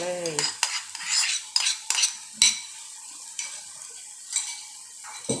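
Squid being stir-fried with salted egg in a pan, with repeated scraping and stirring strokes and light sizzling, close and fairly loud, no talk.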